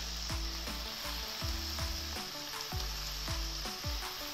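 Chicken and shrimp fry on high heat in a pan, a dense steady sizzle marked by a rhythmic series of low knocks from stirring or scraping, close and without speech.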